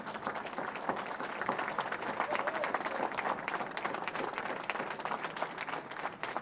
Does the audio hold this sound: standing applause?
yes